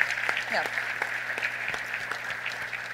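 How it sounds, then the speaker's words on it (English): Applause from an audience at a breakfast event fills the stretch, a steady patter of many hands clapping at moderate volume with a few sharper individual claps standing out. "that deserves applause"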